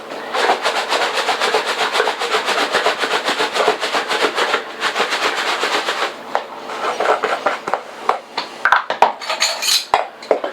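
A utensil scrapes and taps steadily against a container while breaking up clumped, humidity-hardened onion powder, a close, busy rattling that turns sparser and more irregular near the end.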